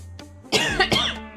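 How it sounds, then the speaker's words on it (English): A man coughs a few times in quick, rough bursts after a faint throat sound, close to the microphone and with no other talking. "Fucking coughing."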